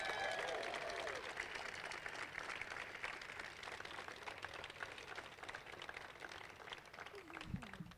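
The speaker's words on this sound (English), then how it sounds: "Can we just give a round of applause to the Division III Athletic Director of the Year" Audience applause for the Division III Athletic Director of the Year at a Denison University swimming and diving team honors event, steady dense clapping that holds loud for the full length and fades slightly near the end.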